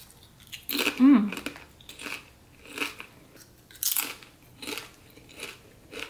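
Close, crisp crunching of food being bitten and chewed, in irregular bites with short pauses between them.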